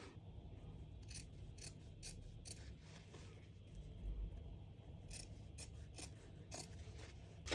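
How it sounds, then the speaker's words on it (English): Scissors snipping the fabric seam allowance of a rouleau neck trim, faint repeated crisp clicks in two quick clusters over a low room hum, with no talk. "So I'm just going to get that trimmed on both sides."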